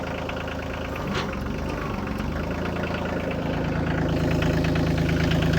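A tractor engine idles close by with a steady mid-low diesel chug that keeps an even rhythm and swells slightly louder toward the end, with no talk over it.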